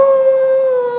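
Children imitate dogs, producing a single sustained, steady howl-like tone, loud and close, lasting about a second.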